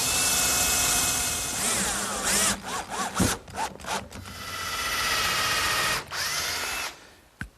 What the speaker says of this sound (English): the first thing I'm going to do is install these center partitions with some screws